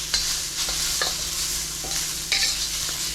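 Shallots being stirred and fried in a hot pan for a shrimp and tofu pad thai, a continuous bright sizzle with a few scraping stir strokes, close and without speech.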